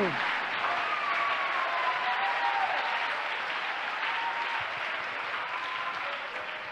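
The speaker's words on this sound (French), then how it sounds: "Si tu veux acclamer, acclame Jésus." A church congregation applauds and cheers in steady, sustained clapping with a faint tonal voice or whoop drifting through the crowd, fairly even in level throughout.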